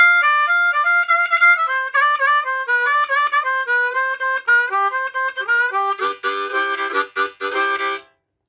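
Blues harmonica plays the closing four bars of a blues progression, a steady run of reedy single notes that turns into fuller chordal blasts near the end, loud and solo, then cuts off.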